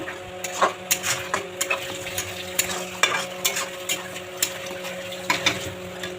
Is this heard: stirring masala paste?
yes